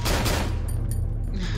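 Gunfire in the horror video game Cry of Fear, a short burst of rapid, loud shots over a low rumbling game soundtrack.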